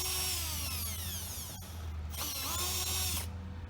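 Milwaukee power drill working on a sign at an old grocery storefront, whining in two sustained bursts with rising and falling pitch, close and loud over a steady low hum.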